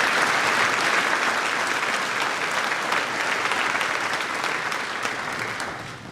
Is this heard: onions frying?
no